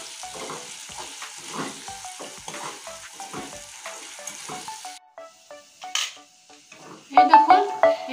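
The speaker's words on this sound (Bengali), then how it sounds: "এই দেখুন এখানে আমি পেঁয়াজটা লাল করে ভেজে নিয়েছি" Onions fry with salt in a pan, crackling steadily while a utensil scrapes and stirs in repeated strokes. The sizzling turns noticeably louder and busier near the end.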